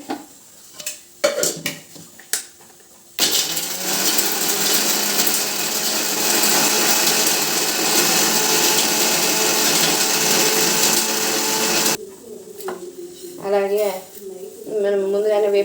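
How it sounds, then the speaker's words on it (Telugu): An electric mixer grinder jar grinds dry coconut and ginger with a loud, constant whirring roar for about nine seconds. Clattering handling noises come before and after it, and speech follows once the motor stops. "మిక్సీ పట్టుకోవాలండి"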